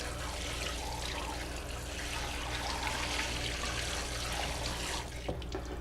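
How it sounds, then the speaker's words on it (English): Tap water runs steadily over chili peppers as their seeds are rinsed out, a continuous close hiss and splash with a brief clatter near the end, no voices. "Now there's some seeds on the inside, and we can wash these out."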